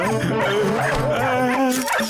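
Cartoon dogs bark and whimper in a steady run of yips and whines, with vocal-like tones layered throughout and no pause between sounds.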